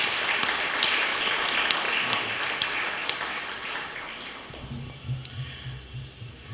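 Congregation applauding in Sacred Heart Church during a First Holy Communion service, a dense patter of clapping that fades out toward the end.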